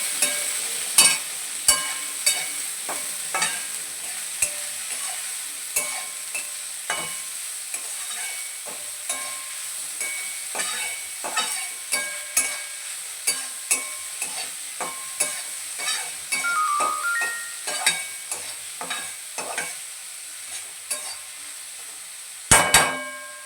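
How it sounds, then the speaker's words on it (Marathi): Spoon stirring spring onions into a sizzling roasted eggplant mixture in a pan, steady clicks and scrapes against the pan in a regular rhythm over constant frying hiss, ending with a louder clatter. "सोबतच आपण इथे कांद्याची पात सुद्धा टाकणार आहोत आणि मिक्स करून घेऊया।"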